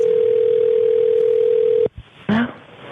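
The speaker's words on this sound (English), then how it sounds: "this is a phone call from last night" Played recording of a phone call opens with a steady telephone dial tone held for nearly two seconds, then cut off abruptly, followed by a brief click and a short burst of voice.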